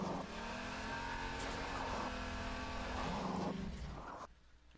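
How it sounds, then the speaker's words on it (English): A stock vehicle's engine in Garry's Mod drones steadily as it climbs a steep hill, a sustained harmonic hum that shifts pitch mid-climb before cutting away near the end. "It's pretty pathetic when the hill is this steep and when the stock vehicle actually can do it"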